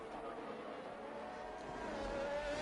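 Race car engine at top speed in a racing video game at Abu Dhabi, a steady sustained high-pitched whine holding loud and continuous throughout, rising slightly toward the end.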